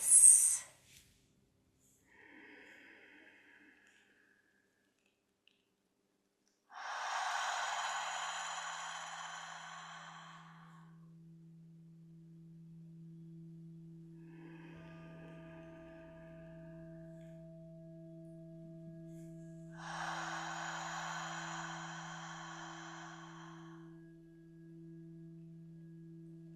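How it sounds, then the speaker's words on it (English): Long, deep breaths during a breathwork session: two slow, soft inhales several seconds apart, quiet and close over a faint sustained tone. "Just a couple more long breaths."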